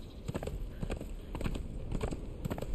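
Horse hooves clip-clop in the video game Conan Exiles: a steady run of close, crisp hoof strikes in an even trotting rhythm, fairly faint, alone without talk.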